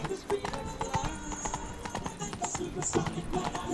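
Horse hooves clip-clopping at a steady walking rhythm in The Witcher 3, close and clear, with game voices talking over parts of it.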